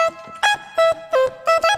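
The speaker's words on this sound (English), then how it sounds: "it's a jaw harp" A jaw harp tone played from a soundboard gives a twangy, buzzing series of about five pulsing notes in a quick rhythm, close and fairly loud, with no voices.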